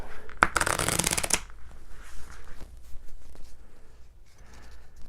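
A deck of playing cards for the Spookre card game is riffled in one quick, close burst lasting about a second, followed by quieter handling noises and light rustling.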